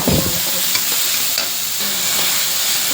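Tomato, carrot and beans frying in a pan for masala oats, sizzling loudly and close while being stirred, with scraping strokes of the spoon breaking through the steady crackle.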